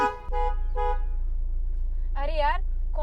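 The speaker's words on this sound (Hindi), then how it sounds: "कितने हॉर्न दे रहा हूँ, उसके बाद भी नहीं सुन रहा है।" Car horn honking repeatedly at a pedestrian wearing earphones in the road, several short toots followed by a longer wavering blast, close and loud over a low engine hum.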